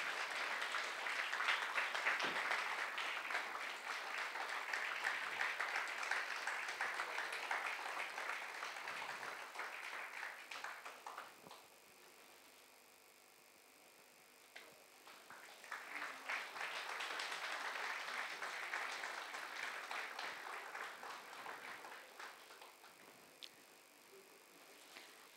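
Audience applause at an Indian folk music event, a long steady wash of clapping that swells, fades to a lull around the middle, then rises again before tapering off.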